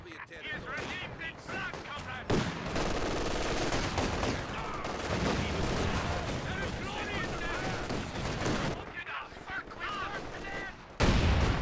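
Dense, continuous gunfire and artillery-like bursts from a Company of Heroes 2 two-versus-two match, with rapid machine-gun rattles and heavy impacts filling the clip. Brief lulls are heard, and a commentator talks over the battle.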